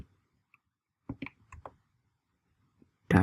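A computer keyboard clicks with a few quick, quiet keystrokes in a short burst, then one more sharp click after a pause, in an otherwise silent room.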